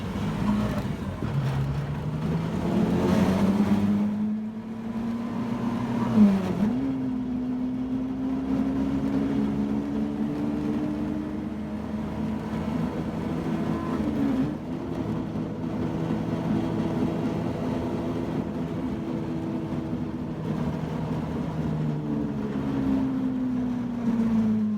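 A Suzuki Carry mini truck fitted with tracks runs over bare ice with barely any snow, its engine droning steadily and loudly throughout, with one brief dip and a noisy rattling undertone, no talking.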